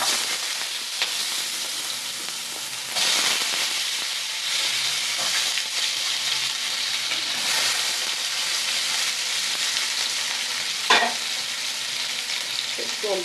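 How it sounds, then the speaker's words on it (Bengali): Thinly cut potato strips fry in hot oil for a Bengali fish curry, a steady dense sizzle with occasional stirring scrapes and a sharp clatter near the end, close and continuous with no talking. "এই যে আলুগুলোকে এবার ভেজে নেব"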